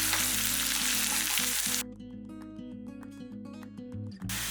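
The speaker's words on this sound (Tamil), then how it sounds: "இப்போ இந்த வெங்காயத்தெல்லாம் இதிலே வதக்கிக்கலாம்" Onions sauté in oil tinted with Kashmiri chilli powder for a brinjal thokku, a loud broad sizzle at first that drops to a quieter crackle with faint stirring, no speech.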